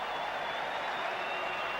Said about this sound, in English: the crowd cheers as Andrew Jones hits his first boundary